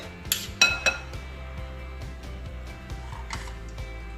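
Metal spoon scraping and clinking against a bowl and pan while cheese filling goes into a Turkish gözleme crêpe, a few sharp clinks early then softer scattered taps over a low kitchen hum.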